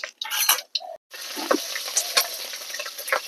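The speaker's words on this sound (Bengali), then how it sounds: "কালো জিরে ফোড়ন দিয়ে দিলাম।" Black cumin seeds crackle and sizzle in hot oil in a wok, with a steady broadband frying hiss broken by brief quiet gaps and a few sharp pops near the end, close and fairly loud.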